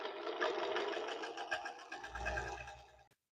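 A Singer Featherweight sewing machine runs in one short burst stitching the folded edges of a fabric piece, with a fast, even mechanical whir that slows and stops abruptly after about three seconds.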